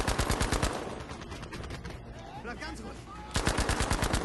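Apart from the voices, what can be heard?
SMG gunfire in the video game Battlefield 5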